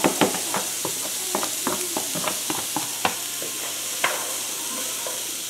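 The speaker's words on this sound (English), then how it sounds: "All right, we'll just let this saute." Celery stalks sautéing in a hot cast iron pan for Cajun cornbread dressing, a steady sizzle with scattered clicks and light stirring scrapes, close and alone.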